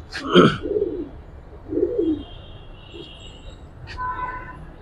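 Giribaz pigeons coo in a few distinct, close, throaty bursts separated by pauses, with a brief higher call near the end.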